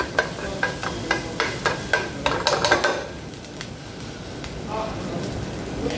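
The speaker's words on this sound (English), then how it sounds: "Now we saute the garlic." Garlic being sautéed in a pan while cooking bitter gourd Japanese style, with a run of sharp spatula scrapes and taps over a steady soft sizzle that continues alone afterward.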